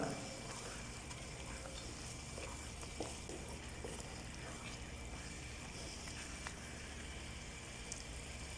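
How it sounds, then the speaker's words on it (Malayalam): Fried chicken pieces stirred into a thick biryani gravy masala in a pan, a steady low sizzle with soft scraping and stirring sounds running throughout, with faint background noise. "ഇനി വറുത്ത് വെച്ച ചിക്കനും കൂടെ അതിലേക്ക് ഇട്ട് നല്ല രീതിയിൽ മിക്സ് ചെയ്ത് എടുക്കുക"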